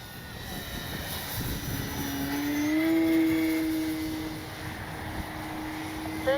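A small Durafly Tundra V3 STOL radio-controlled model plane's engine drones overhead, its buzzing tone swelling louder as it passes nearby and then fading slightly, steady and continuous throughout.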